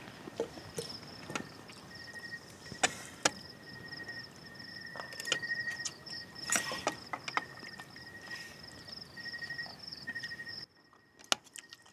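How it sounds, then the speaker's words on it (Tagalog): Crickets keep up a steady, faint, high chirping drone at a car camping spot in Pangil, Laguna, broken by scattered clicks and knocks, then cut off near the end. "Puro kuliglig lang maririnig mo dito."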